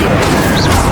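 A fire spell cast in Hogwarts Legacy, heard as a loud, dense, continuous burst of roaring whoosh lasting about a second, filling the foreground with no gaps.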